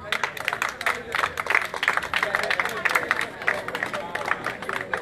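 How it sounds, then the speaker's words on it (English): An audience at a spelling bee claps steadily in a rhythmic patter, with crowd murmur and voices mixed through the sustained applause. "The claps can still go."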